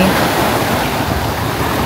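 Ocean waves wash onto a beach in Leyte with clear blue water, a loud, continuous roar of surf mixed with wind buffeting the microphone.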